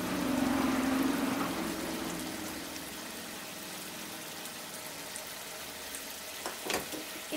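Fried onions go into a pan of simmering Bengali-style tilapia dopiaza with reduced gravy. A louder sizzle at the start settles into quiet bubbling, and a few light utensil clinks come near the end.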